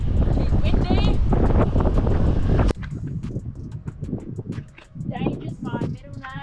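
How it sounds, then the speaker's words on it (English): Wind buffeting a microphone outdoors at Exmouth, loud low rumbling gusts that cut off abruptly partway through, then a quieter stretch with people talking. "Windy."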